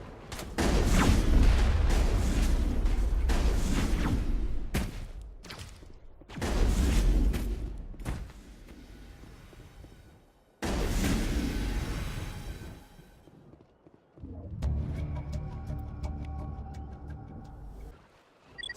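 Turret gunfire and crossfire from a Mass Effect battle on Virmire come in loud, sustained bursts of rapid shots. Three long volleys are separated by short pauses, and a sparser, ringing stretch of fire follows near the end.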